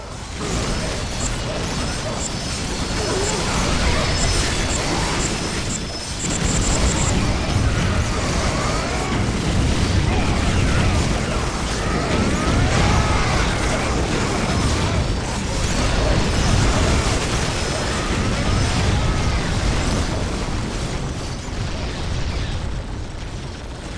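Bombs explode in the Warhammer 40k strategy game Dawn of War Soulstorm, a dense, loud barrage of blasts, bursts and crashing debris rolling on continuously for the whole stretch with only a brief dip near the start.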